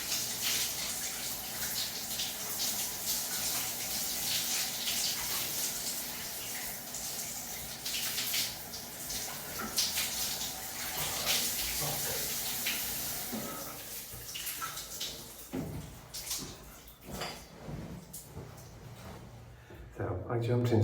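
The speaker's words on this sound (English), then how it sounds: "So I'm going to have a shower now." Running water from a shower hisses continuously for around twenty seconds, a steady spray that shifts and thins toward the end with a few knocks and splashes; no talking.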